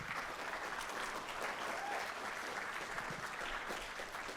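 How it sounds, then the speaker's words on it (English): A steady round of applause from an audience at a freshman orientation, a dense wash of clapping held at an even level, somewhat distant and faint. "I want everybody to give a round of applause to Ms. Hodge"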